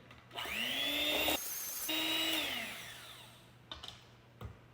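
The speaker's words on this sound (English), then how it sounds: "Now I can use the blender." An electric blender whirs steadily while mixing banana nut muffin batter with flour, running loud for about a second, pausing briefly, then spinning up again before winding down, followed by a few small clicks.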